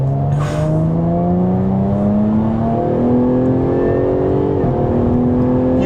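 Jaguar F-Type V6 S sports car engine revving, a loud continuous note that climbs steadily in pitch as the revs rise, close up and alone with no talk over it.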